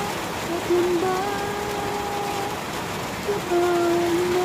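Steady rain hisses throughout, with a couple of faint sustained tones drifting over the patter.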